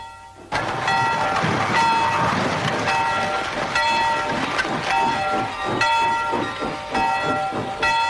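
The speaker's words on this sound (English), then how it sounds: "Then the late mail train came in." A late-night mail train pulls in, loud and close: a steady hiss of steam, rhythmic chugging and rumbling wheels, with a sustained horn-like tone held throughout.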